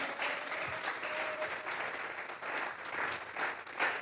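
A church congregation applauds steadily for about four seconds, many hands clapping together in a continuous wash of sound with a slight swell near the end, at moderate volume and with no speech.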